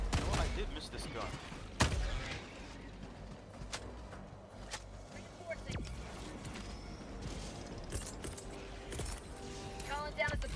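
Scattered video game gunshots pop at irregular intervals under steady talking, with one sharper, louder crack early and lighter clicks and rattles around it.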